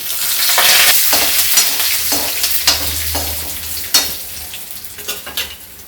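Asafoetida, mixed spices and curry leaves dropped into hot oil in a kadhai for pakora kadhi, a loud, close, continuous sizzle and crackle with stirring scrapes and clinks throughout.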